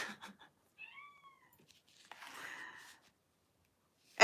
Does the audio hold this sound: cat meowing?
yes